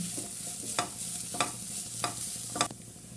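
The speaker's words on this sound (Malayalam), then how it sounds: "ബ്രക്കോളി അരിഞ്ഞു വെച്ചത് നമുക്ക് നല്ലോണം ഒന്ന് മിക്സ് ചെയ്ത് കൊടുക്കാം" Chopped broccoli with masala is stirred in a pan over a low flame, a spoon scraping in several distinct strokes at an uneven rhythm over a faint, soft sizzle, close and quiet.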